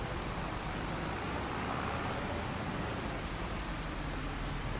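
Steady rain pours down in the Farming Simulator 25 video game, a continuous broadband hiss of rain on surfaces with no break, fairly quiet and even throughout, with no voices.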